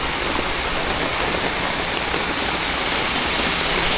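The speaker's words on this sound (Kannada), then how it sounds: "ಈಗ ಮಳೆ ಸ್ಟಾರ್ಟ್ ಆಯಿತು, ಹೋಗೋಣ." Monsoon rain beginning during a road trip from Hubli to Udupi, a dense, even hiss of falling rain heard from inside a car, steady and fairly loud with no voices.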